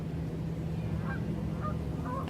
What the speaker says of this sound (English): I can hear the ducks, the geese